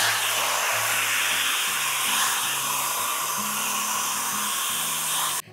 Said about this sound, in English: So I just smoothened it out a little bit. It's not completely dry.